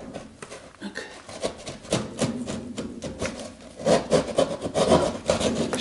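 Small hand saw rasping back and forth through drywall, a steady run of close, scratchy strokes with an uneven rhythm that grows slightly louder near the end.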